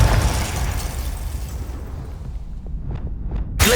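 A Confringo fire spell bursts in Hogwarts Legacy, a broad loud blast opening the moment and rumbling down into a decaying tail with small crackles, then a fresh sharp impact right at the end.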